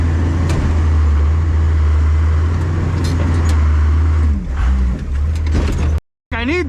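A first-generation Cummins 12-valve diesel pickup engine runs close by with a loud, steady low rumble and mechanical clatter, which drops out briefly near the end as a voice comes in.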